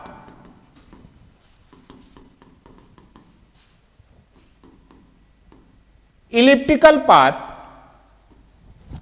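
Faint scratching of writing on a board during a physics lesson, with a short burst of voice near the end.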